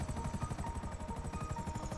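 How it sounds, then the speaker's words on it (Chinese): Helicopter in the video game Grand Theft Auto V, a steady rapid rotor thump with a continuous engine whine, loud and constant throughout. "没有啦，直升机"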